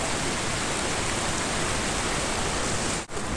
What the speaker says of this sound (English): So this place is called Lewis Falls.